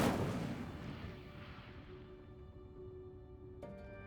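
Incendio fire spell cast in Hogwarts Legacy: a loud, rumbling fiery blast that bursts at once and slowly fades, with a faint ringing tone underneath and a brief crack near the end.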